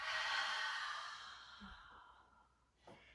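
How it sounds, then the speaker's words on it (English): A long, audible breath is pushed out during a yoga forward fold, loud at first and trailing off over two seconds, followed by a short faint inhale. "Start to give your breath some sound."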